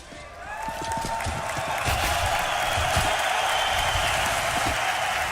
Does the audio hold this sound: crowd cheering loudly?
yes